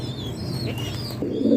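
Domestic pigeons cooing nearby in a home loft, with soft low throaty coos rising over a steady background hum across a short stretch and no speech.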